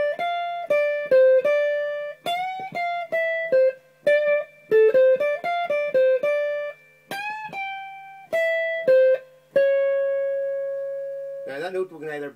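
An electric guitar plays a riff, a quick run of clean, sharply plucked single notes repeated in phrases, close and alone, ending with a longer held note and a brief strum.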